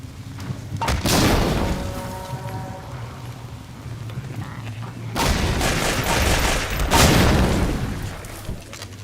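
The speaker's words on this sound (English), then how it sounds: "Grenade spam because we have grenades." Grenades explode in a modded video game: two heavy, close blasts with a long crackling, debris-like rumble after each, over steady in-game background noise.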